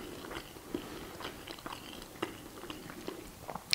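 Cooked buckwheat being chewed: quiet, close mouth sounds with soft rhythmic bites and light crunches repeating every half second or so, no talk.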